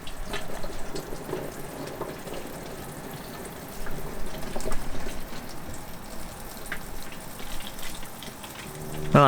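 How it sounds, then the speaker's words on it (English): Water pours into a Thetford toilet cassette with a continuous splashing, gurgling rush that swells and eases slightly, close to the microphone. "let's fill it with water and see if it leaks"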